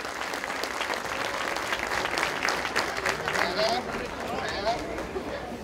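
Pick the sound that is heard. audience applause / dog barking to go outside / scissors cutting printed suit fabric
audience applause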